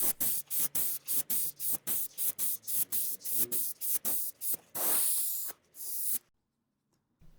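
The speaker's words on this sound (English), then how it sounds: "For dyeing, I like to use my airbrush and start with a teal base coat" An airbrush sprays teal dye onto leather in short, regular hissing bursts, about a dozen quick pulses followed by one longer spray, close and clear, then the hiss cuts off into near silence.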